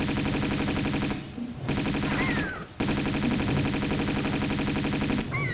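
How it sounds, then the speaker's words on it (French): Rapid Uzi fire in Tomb Raider II, a dense continuous burst lasting several seconds with two short pauses, loud and close, with no talking over it. "gaspiller des munitions de Uzi pour des osios, c'était pas top"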